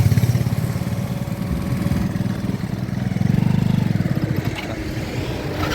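Engine of a service boat near a resort area by a bridge, a close, steady mid-pitched motor drone that swells slightly in the middle before settling back.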